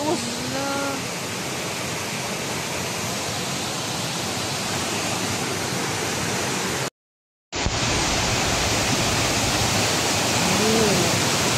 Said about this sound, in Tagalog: Kusog king waterfalls guys